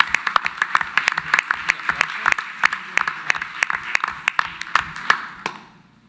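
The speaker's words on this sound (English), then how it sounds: "we can applaud now" At a school committee meeting, a small audience claps for students, with distinct individual hand claps in a brisk, uneven patter, fairly close, before fading out at the end.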